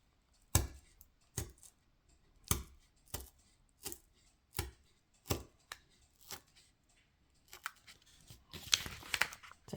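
Scissors snip through journal paper in a quiet room, with a series of short, crisp cuts spaced about a second apart, then a brief flurry of rustling near the end.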